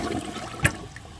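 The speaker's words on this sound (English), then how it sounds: "I'm going to give it a second flush." A high-efficiency Project Source toilet from 2012 flushing during a clog test, heard as a short rushing gush of water with a brief sharp swell midway, fairly close and with no talking.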